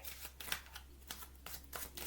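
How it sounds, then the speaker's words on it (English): Quick riffle bursts of a deck of playing cards being shuffled with an American-style riffle, soft crisp flutters repeating about every quarter second, close and quiet with no talk. "I can do the American shuffle."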